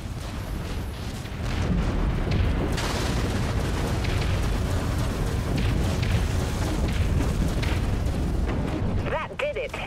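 An enemy Dreadnought explodes in the video game Dreadnought, a loud rumbling blast that swells into a sustained roaring boom with crackling debris, ending in a short rising synthetic tone.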